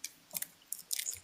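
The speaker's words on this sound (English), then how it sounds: "like you were crunching something" Faint crunching on food during a live stream, a few quick, crisp bites and chews in short bursts, quiet and close, with no talk over them.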